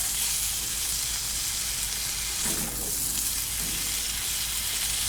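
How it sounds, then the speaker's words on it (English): Vegetables and onion sizzle in a pan on an outdoor cube stove, giving a steady, close hiss of frying with a brief stirring swell midway and no talking. "So we're sizzling now."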